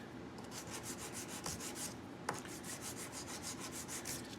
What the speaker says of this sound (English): So we just put it on the corner like this and just rub it back and forward.